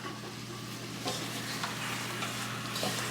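Onions frying in a pilau pot, a steady close sizzle with a low background hum, broken by a few scraping stirs of a utensil; no talking.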